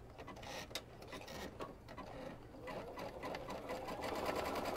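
Sewing machine zigzag stitching a pillow shut, a close, continuous rapid mechanical whir and needle chatter that holds steady and grows slightly louder toward the end.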